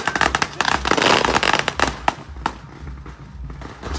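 Firecrackers are tossed under people's feet at a street event in Thailand, giving a loud volley of sharp cracks and pops that thins into scattered bangs.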